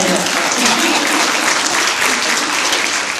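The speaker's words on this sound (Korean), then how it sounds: "다시 박수 한번 주세요" Dense, loud audience applause fills a book concert hall, a continuous roar of many hands clapping at a steady level from start to finish.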